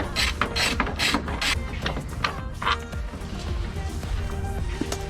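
A ratchet wrench backs out the bolts holding a 1997-2004 Dodge Dakota headlight, giving repeated close, rapid pawl clicks in several bursts with small metallic knocks between them.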